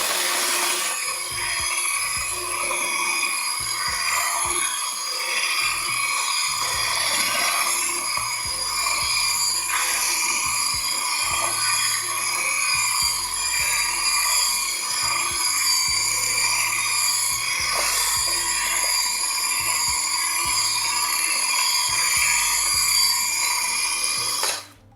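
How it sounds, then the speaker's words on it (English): An electric hand mixer fitted with dough hooks churns doughnut dough, a constant motor whine laced with rubbing, scraping texture, running steadily until it cuts off at the end. "My hand mixer, but using the dough teeth to mix this."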